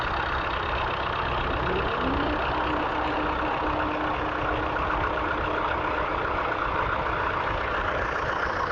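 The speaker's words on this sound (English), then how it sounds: "That's a big man tractor, that. That sounds like a diesel, actually." At a steam rally, a heavy diesel tractor engine chugs continuously at a steady idle, loud and close, with no voices over it.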